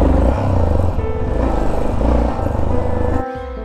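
A flooded motorcycle engine chugs and sputters unevenly at close range in Madagascar, its rough idle fluctuating before dropping abruptly near the end as it stalls.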